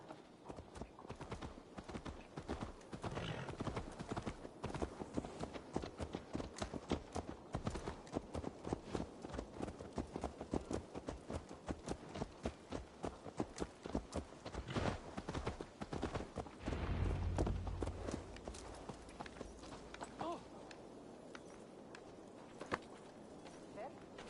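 Horse hooves clip-clop steadily in Assassin's Creed Valhalla, a long run of close, evenly paced footfalls under intermittent speech, with a brief low thud near the end.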